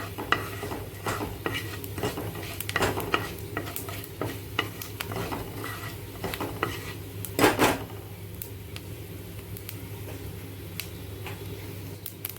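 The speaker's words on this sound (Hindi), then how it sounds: "जीरा और सौंफ तड़क गया।" Cumin and fennel seeds crackling in hot oil in a pan, a steady close sizzle with scattered pops, stirring scrapes and a louder clatter of a spoon against the pan, without speech.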